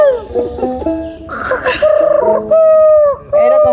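A person imitates a cuckoo's call, producing a few loud, sliding whistle-like tones close up, with some laughter between them.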